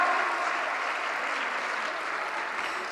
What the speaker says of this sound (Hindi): इनके लिए एक बार सभी ग्रुप वाली फिर से तालियां बजानी पड़ेगी। जोरदार तालियां बजाएंगे।